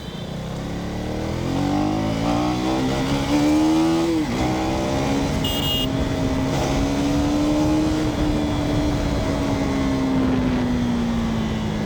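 A KTM Duke 250 Gen 3 motorcycle's engine drones steadily while riding at speed, its pitch climbing and dipping slightly with throttle over a constant rush of wind, loud and close throughout.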